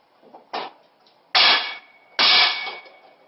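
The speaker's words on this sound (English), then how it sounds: "It's going to take a couple of whacks with a hammer" A light tap followed by two loud, sharp metallic hammer strikes seating a part on a WIKISPEED car, each ringing briefly before fading, close by.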